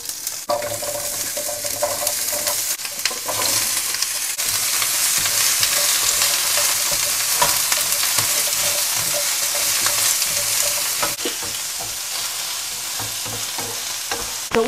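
Fish fries in hot oil in a pan, a loud continuous sizzle with repeated scraping and stirring from a utensil throughout, close by and without speech.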